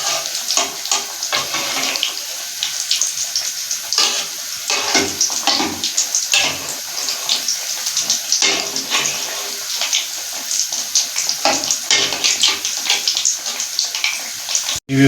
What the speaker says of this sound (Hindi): आहिस्ता आहिस्ता इनके ऊपर आपने ऑयल भी डालना है, इस तरह पलटी भी देते रहना है